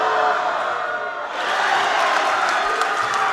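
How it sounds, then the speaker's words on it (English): Crowd noise fills a high school basketball gym, a steady roar of cheering with scattered shouts, dipping briefly before swelling again, with nearby voices mixed in. "Crowd really getting into the action here."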